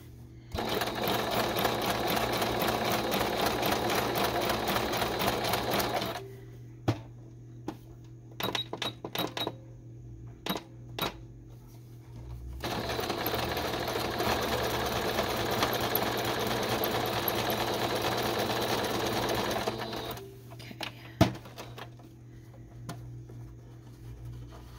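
A sewing machine stitches a zigzag-style decorative stitch on fabric and lace in two long, steady whirring runs, separated by a pause with scattered clicks and taps, close and moderately loud.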